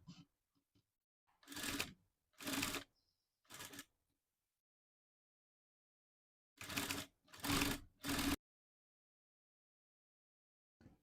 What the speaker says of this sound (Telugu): ఈ విధంగా కర్వ్ షేప్ తిప్పిన తర్వాత దీనిపైన నుంచి ఒక స్టిచ్ అనేది వేసుకోవాలి